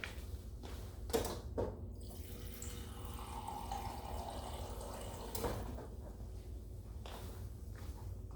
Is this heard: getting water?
yes